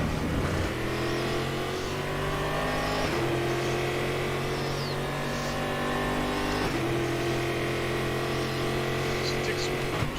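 A race car in Automobilista drones with a loud, steady engine note, pitch shifting as it shifts gears, while another car runs close alongside on the left.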